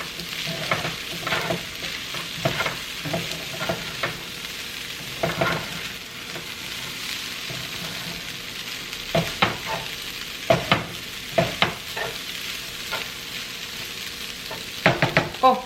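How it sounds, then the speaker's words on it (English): Rice and soy sauce stir-fried in a hot pan, a steady sizzle under repeated scraping and stirring strokes that come in uneven bursts, loud and close with no talking. "And then just fry up my rice. Mix it all up."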